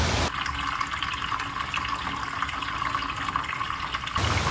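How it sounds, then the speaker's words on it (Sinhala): Water mixed with oil draining out of a flooded motorcycle engine, a steady splashing pour that runs without a break for about four seconds, close and fairly loud, with no talking. "එන්ජින් ඇතුළට වතුර ගිහිල්ලා තියෙනවා නම් මුලින්ම ඉවත් වෙන්නේ වතුර ටික."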